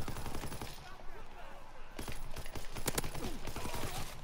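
Rapid machine-gun bursts crackle through Call of Duty WW2 gameplay, dense and continuous, with sharper shots standing out near the end and a player's voice faintly underneath.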